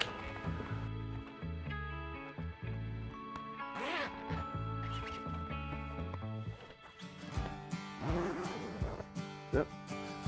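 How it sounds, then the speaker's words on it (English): A zipper on the full canvas cover of a Chaparral OSX boat is drawn closed in several short, ratcheting pulls, close and distinct over a background of music. "Now I'm going to zip this side up."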